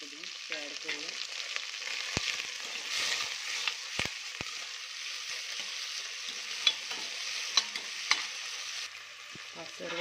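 Chopped potato, tomato and coriander sauté in a pan with a soft, continuous sizzle, broken by several crisp spatula knocks against the pan and stirring scrapes, heard close with no talking.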